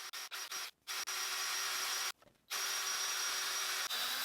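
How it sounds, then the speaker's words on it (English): A power drill bores holes in wood with a 1.95mm bit in short bursts at first, then long continuous runs broken by brief pauses, close and steady, with no talking. "Now make sure that when you go to drill your holes, take your time and make them as straight as possible,"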